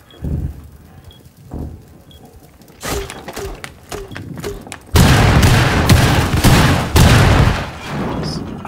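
SMG-11 submachine gun fire in Rainbow Six Siege: scattered faint shots and thuds at first, then loud, dense automatic bursts erupt and sustain near the end, heavy and close.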